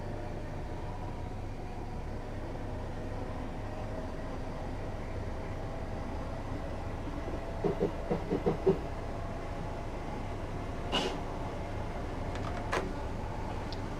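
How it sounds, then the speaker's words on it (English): An electric commuter train rolls and coasts at about 35 mph between London Bridge and London Victoria in a railway simulator game, giving a steady low rumble with a few faint clicks and knocks partway through. "I'm just going to allow the train to coast here."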